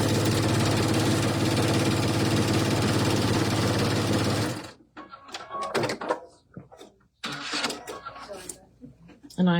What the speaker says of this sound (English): we're just going to sew 1/4 of an inch